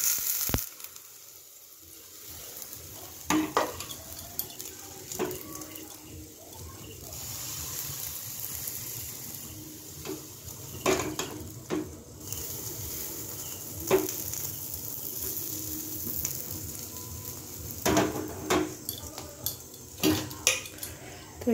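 An oat mixture for a child's recipe is poured into hot ghee in a pan and spread out. A soft sizzle runs beneath scattered clatters of a spoon and pan.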